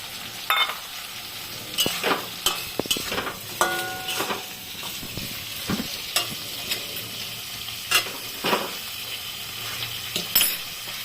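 Potatoes and beans stir-fry in a pan for a Bengali chachchari with poppy-seed paste. A steady background sizzle runs under repeated scraping and clinking of a metal spoon against the pan.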